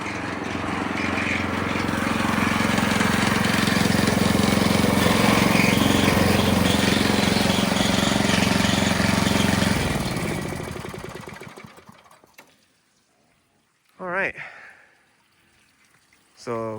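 Engine of an external 2-inch water pump on a vintage gold trommel wash plant, running loud and steady before winding down and shutting off, then near silence with a short voice.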